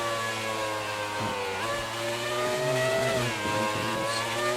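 A Formula 1 car's engine in the racing game F1 2019 holds a steady high-pitched whine through most of the run. The pitch drops briefly as the car shifts or brakes, then climbs again, loud and close, with no talking.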